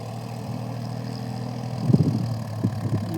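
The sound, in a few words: tractor ploughing a field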